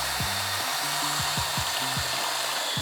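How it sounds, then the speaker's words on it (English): A paint mixer stirs a beer mash for a green apple sour, making a steady, loud motorized whir and churning rush, with gliding tonal sweeps layered on top. "I do have the trusty, paint mixer today, so it makes mashing in nice and easy"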